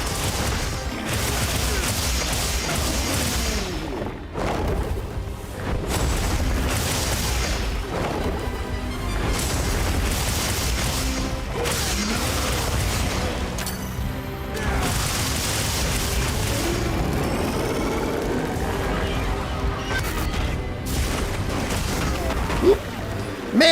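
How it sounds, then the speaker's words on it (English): Bombs explode in the Monster Hunter video game, with repeated heavy booms and crashes packed into a dense, loud, continuous mix of game action and music. "Man, those bombs do a lot of damage."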